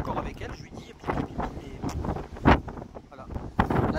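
Wind gusting across an open ferry deck at sea, crossing from Greece to Italy, rumbling steadily against the microphone with louder buffets; some voice-like sounds mixed in.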